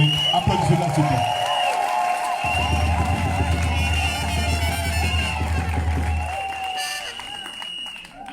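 Audience applauding Simone Ehivet Gbagbo at a gathering marking her return from Congo, with sustained clapping and crowd noise alongside music and a loud low drone, steady for most of the span.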